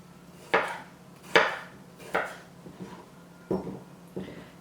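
Yukon Gold potatoes being cut into bite-size pieces on a cutting board, six distinct knife chops at an unhurried, uneven pace, close and clear against a quiet background.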